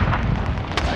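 A fragmentation grenade blast in Call of Duty: Warzone Pacific, heard as a loud, broad roar of detonation and rumbling debris that fills the whole second, with a sharper burst near the end.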